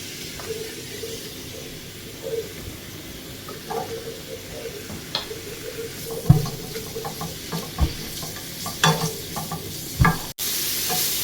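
Cut apple, chopped dates and raisins sauté in half a spoon of ghee with a soft, continuous sizzle, broken by occasional light knocks and scrapes of a stirring spoon against the pan.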